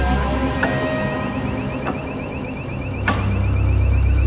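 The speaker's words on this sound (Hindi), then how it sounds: "इस बीच एक और मोशन सेंसर बजना शुरू हो गया।" An electronic motion-sensor alarm sounds alone inside a ruined, reputedly haunted building, a repeating warbling electronic tone with a few sharp clicks or knocks punctuating it and a low rumble rising near the end.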